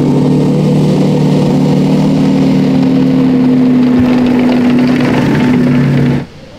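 A loud engine in an Australian WWII M3 Grant tank, rated about 400 horsepower, runs with a steady droning hum close by, then abruptly cuts off near the end.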